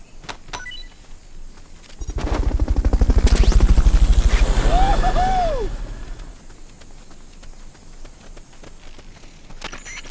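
Fulton recovery helicopter in Metal Gear Solid: Peace Walker, a rotor whir swelling to a loud peak mid-clip then fading, with a short whooshing lift effect.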